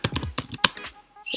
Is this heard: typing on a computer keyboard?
yes